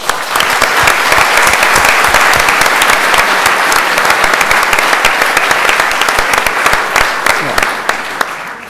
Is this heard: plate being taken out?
no